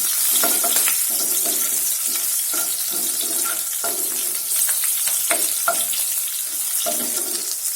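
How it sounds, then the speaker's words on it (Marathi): Green chillies sauté in hot oil in a pan while cooking okra, a steady loud sizzle broken by repeated scraping stirs of a spoon against the metal, close and without any voices. "हिरव्या मिरच्या पण छान परतून घेऊ"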